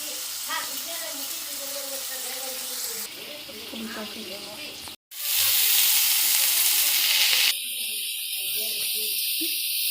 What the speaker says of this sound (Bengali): আদা লঙ্কা কুচি তেল দিয়ে আলুগুলো ভাজবো